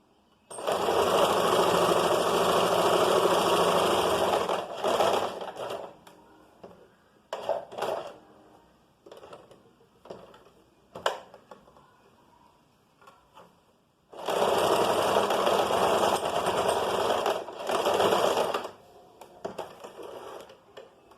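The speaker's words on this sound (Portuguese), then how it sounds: "Aqui eu tô fazendo uma costura com um pouco menos que 1 centímetro." A sewing machine stitches a seam just under one centimetre in two loud, close bursts, one early and one late, with short clicks and handling noises in the quieter stretch between them.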